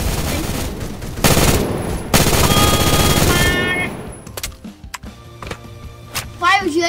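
Gunfire in a Roblox shootout video game: two loud bursts of rapid automatic fire, then scattered single shots and clicks, with a voice talking over the later part.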